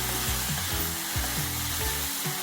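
Minced pork khua kling being dry stir-fried in a pan with shredded kaffir lime leaves and no oil, a steady sizzle with repeated scraping strokes of the spatula at a regular rhythm, close up and with no talking.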